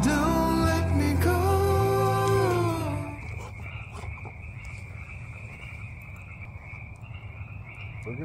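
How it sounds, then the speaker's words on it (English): Frogs croak at night at a summer-solstice campsite, a dense, pulsing chorus that carries on after a few seconds of sustained tonal sound at the start, with insect-like buzzing mixed in and no talking. "And there we got the frogs."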